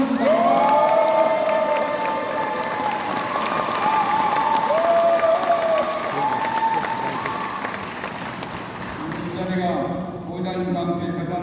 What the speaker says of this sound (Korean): 큰 박수 한번 다시 한번 부탁드립니다